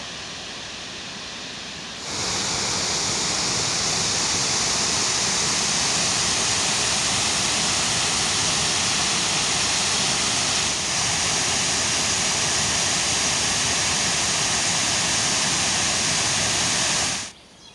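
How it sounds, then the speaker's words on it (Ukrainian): A loud, constant roar of water from the Vorskla River rushing over the Nyzhnioblynska dam in Ukraine, broadband and unbroken, rising in after a quieter start and cutting off near the end. "Нижньоблинська дамба. Ох, і шумить там водичка."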